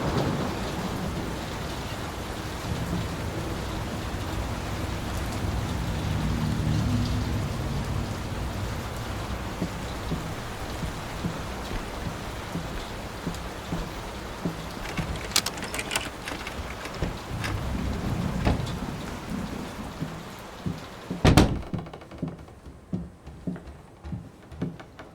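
Steady rain patters through a stormy scene in the 2023 Layers of Fear on PS5, with a sharp thunder crack late on followed by scattered drips and knocks.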